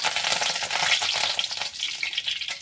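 Curry leaves hit hot oil with a loud, crackling sizzle that spits and pops close by, easing slightly toward the end but staying busy throughout.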